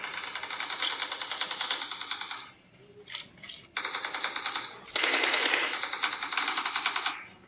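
Rapid automatic gunfire from the PUBG mobile game rattles in long, evenly spaced sprays, broken by a brief lull with a few shorter bursts, then resumes loud and continuous until the end.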